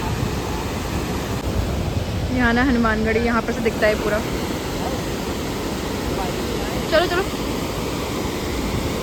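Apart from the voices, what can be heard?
fast-flowing, rain-swollen Gaula river water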